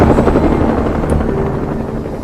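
A helicopter in a film about a snowy mountain rescue gives a steady, loud, close rotor drone that fills the whole moment without a break.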